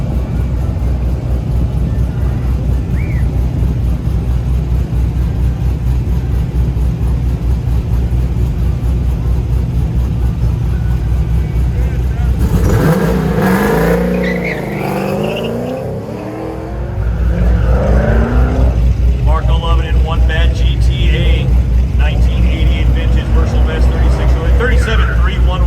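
Loud, steady engine drone from a Camaro at a Goodguys autocross event in Del Mar, running for most of the stretch, then dipping briefly before a louder burst; a voice talks over it partway through.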